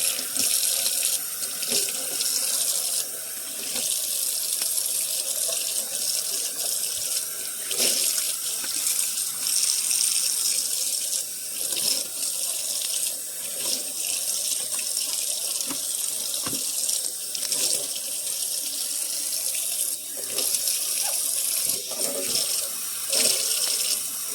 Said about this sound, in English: Draining the sink, and then we're going to clean it out.